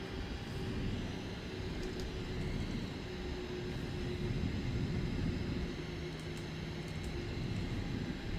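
A simulated airliner in Microsoft Flight Simulator 2024 rolls for takeoff with flaps at 10, a steady broadband engine roar building gently and heard alone, with no talking.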